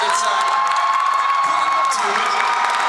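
A live concert audience at Mesa Arts Center claps and cheers loudly, a dense wash of applause with whoops rising and fading across a few seconds.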